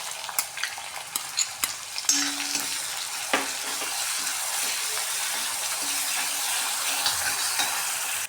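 Onions frying in oil with cumin seeds in a pan on a stove, a steady hissing sizzle with spoon stirring and a few sharp clicks and taps against the pan.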